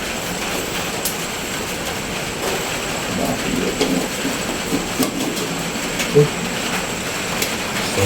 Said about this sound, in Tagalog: Umuulan na naman. Wala na talagang ginawa tong ulan.